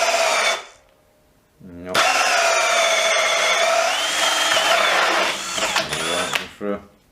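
A 12V brushless cordless drill bogs down and overloads while boring through wood, its whine rising loud and close, cutting out briefly, then straining again; a voice says a word over it.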